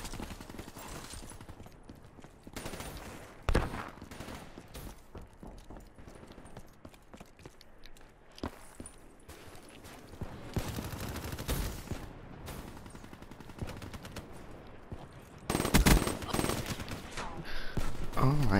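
Gunfire from Call of Duty: Black Ops 3 in an online match, with scattered shots and short bursts at varying distance, getting louder and denser toward the end, while a voice speaks at times underneath.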